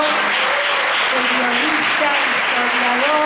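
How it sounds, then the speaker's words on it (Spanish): Audience at a journalism panel debate gives the invited guests a loud, sustained round of applause, dense clapping throughout with a voice speaking over it. "vamos a pedir un fuerte aplauso para nuestros invitados"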